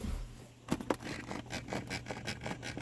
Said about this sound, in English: That's what split gears sound like.